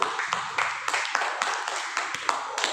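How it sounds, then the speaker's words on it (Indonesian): Students in a classroom clapping for the first group, a light, ragged run of separate hand claps at moderate distance, sparse and uneven, with no talk over it. "Tepuk tangan untuk kelompok 1."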